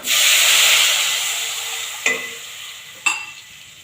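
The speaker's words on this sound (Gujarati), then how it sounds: "હવે આપણે તેમાં પાણી નાખી દઈશું" Water hits hot oil in a loud burst of hissing sizzle that slowly fades, followed by two sharp clinks of a utensil.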